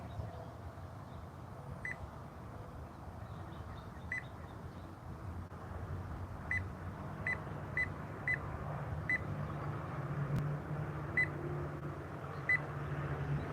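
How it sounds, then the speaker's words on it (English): A kitchen alarm beeps in short, evenly spaced bleeps about once every second or two, faint over a steady background hum, before falling silent near the end. "See, I have the alarm on, so let me cut this alarm."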